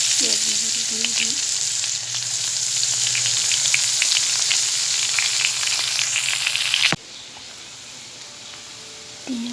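Onion and garlic frying in a pan with coriander powder, meat masala and garam masala, a steady loud sizzle with scattered crackles and spoon scrapes that cuts off abruptly near the end, leaving faint hiss.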